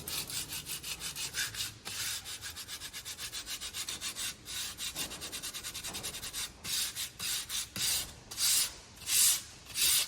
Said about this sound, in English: just some 40 grit sandpaper. Follow the grain of the batten, which is vertical.